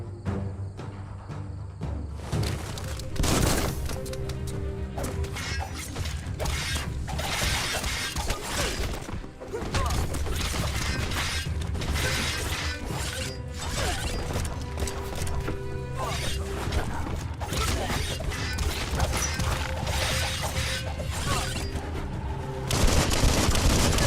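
Bomb lobber enemy attacking in the action game Biomutant, with loud continuous combat: repeated explosive blasts and bursts, clattering impacts and debris over a dense game soundtrack, intense throughout.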